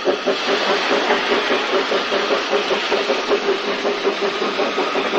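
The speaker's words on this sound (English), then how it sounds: "Here the train sets off across the main road." Vale of Rheidol narrow-gauge steam train setting off across a main road, a steady, loud chuffing and mechanical rumble with rapid rhythmic beats running throughout, with no voices.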